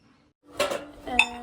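Metal puja utensils being scrubbed with Pitambari, a few bright clinks and scrapes in quick succession after a moment of silence, close and clear with no talk.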